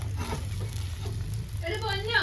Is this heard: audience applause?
no